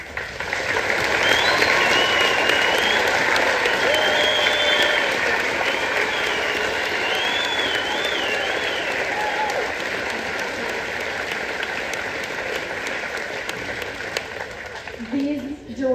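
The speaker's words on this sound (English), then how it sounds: "They need a huge round of applause." A large audience at a school event applauds the music directors, a dense, sustained clapping that stays loud for the full stretch and eases off slightly near the end, with faint whistles on top.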